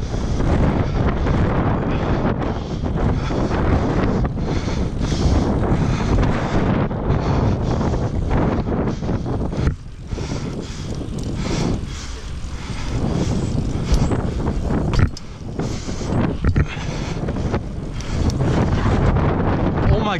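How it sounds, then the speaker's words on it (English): Strong wind buffets the microphone outdoors during a snowstorm in New York City, a loud, continuous roaring gust that barely lets up for the whole stretch, with a few brief dips. "It's so windy."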